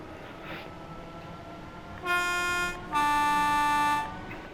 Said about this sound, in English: I'm blowing the horn a bit too much now